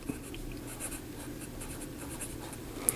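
A fountain pen with a medium steel nib, a Tibaldi N60 Bora, scratches softly across paper in a steady run of faint, close strokes, with one sharper tick near the end and no talking.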